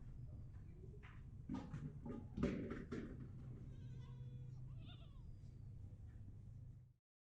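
Goats, including a large one of about 35 kg, bleat several times against a steady low background hum, with a louder cry in the middle; the calls sound fairly close.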